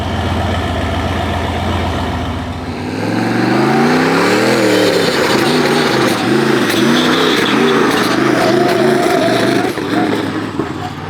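A car engine starts up rough and steady, then climbs into a series of loud, close revs that rise and fall repeatedly while warming up. There are no gauges fitted and there is no talking.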